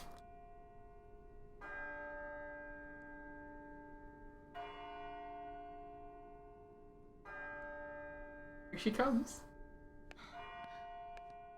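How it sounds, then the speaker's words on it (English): A deep bell tolls midnight in the video game Birth by Sleep, ringing four evenly spaced, long-decaying strikes about three seconds apart, with a voice briefly speaking over the later strikes. "Do you hear the bell? It's midnight."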